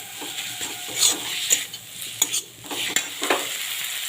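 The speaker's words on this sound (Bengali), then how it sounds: "এবার আদা রসুনটাকে আমি ভেজে নেব কাঁচা গন্ধটা যাওয়া থাকতে।" Ginger garlic paste frying in a pan for chicken do pyaza, a steady close sizzle with scraping stirs and several sharp utensil clinks against the pan.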